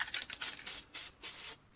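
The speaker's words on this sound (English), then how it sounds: "Quick spray on top." Gloss black spray paint hisses from an aerosol can in several short bursts, close and fairly soft, with brief gaps between the sprays and no talking.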